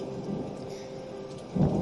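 A thunderstorm rumbles with steady rain pattering throughout, and a deeper, louder roll of thunder swells near the end.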